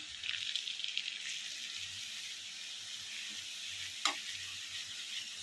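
Flour stirred into melted butter in a pan on a very low gas flame makes a steady, soft sizzle, with light scraping from the stirring and a brief clink near the end.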